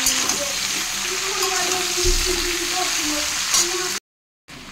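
Jackfruit fries in a pan with a steady, close sizzle and crackle, broken by a few spoon scrapes and a brief low knock, then cutting to silence near the end before resuming faintly.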